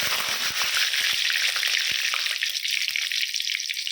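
Curry leaves hit hot oil in a pan with a loud, steady sizzle and crackle, with sharp spits and pops scattered across it.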